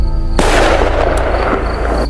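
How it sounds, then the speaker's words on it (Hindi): A single loud rifle shot cracks sharply and close, then a broad roaring echo trails off over the next two seconds. "कॉर्बेट ने घुरल पर निशाना लगाया और गोली चला दी"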